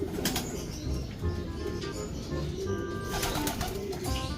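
Racing pigeons arriving coo and flap their wings in short bursts amid a busy outdoor background, with a few chirps scattered through.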